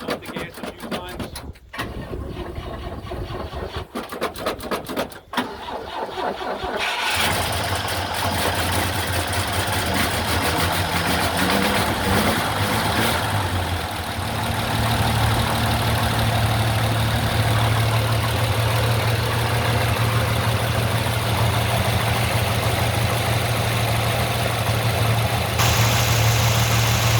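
A 1963 GMC 1000 pickup truck with a V6 engine and four-speed is choked and cranked, catches, then settles into a loud, steady, even idle that carries on, with some voices in the background.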